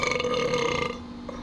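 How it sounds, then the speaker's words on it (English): One loud, deep burp, close up and lasting about a second before trailing off into quiet. "Did you burp in your cup?"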